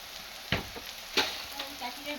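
Onions and slit green chilies sizzle in oil in a pan, a steady crackling fry broken by a few sharp clinks and stirring scrapes.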